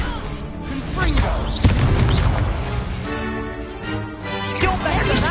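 A Confringo spell blast in Hogwarts Legacy, a loud booming burst with crashing debris, followed by rumbling and rattling game sound effects in a busy, dense mix.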